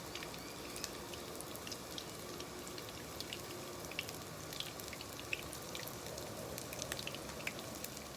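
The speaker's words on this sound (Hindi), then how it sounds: "कबाब को एक साइड से फ्राई करने के बाद मैंने इसे पलट लिया है।" Chapli kebab frying in oil in a pan: a quiet, steady sizzle with scattered small pops and crackles, continuing evenly with no voices.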